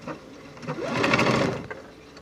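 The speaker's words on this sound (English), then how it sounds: "I'm gonna run a fixed stitch again, lock it in." A sewing machine runs a short, quick burst of fixed stitches on a fabric face mask, close and moderately loud with a fast mechanical whir, alone with no talking.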